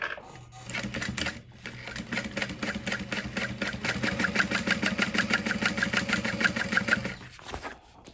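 A sewing machine stitches along a backpack zipper with a fast, steady mechanical rattle. It starts up, runs continuously for several seconds, then stops, close and fairly loud.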